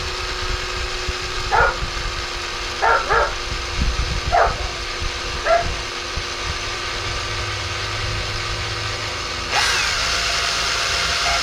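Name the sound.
power drill drilling into Ford Kuga tail light lens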